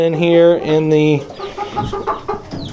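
Two dozen barred rock and buff Orpington chickens cluck and call loudly up close, with a few longer harmonic squawks at the start giving way to softer overlapping clucks, under brief speech.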